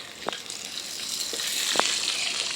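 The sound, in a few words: fish frying in a pan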